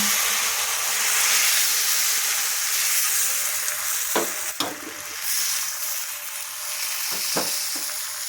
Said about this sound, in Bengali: পাতলা করে ব্যাটারটা দিয়ে দিচ্ছি